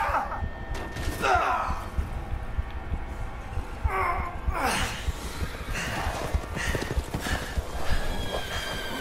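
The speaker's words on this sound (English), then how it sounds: "Now they have horses?" Horses whinny and neigh over busy clip-clop hoofbeats in the Resident Evil Village video game, with gunfire-like bursts and background game noise throughout.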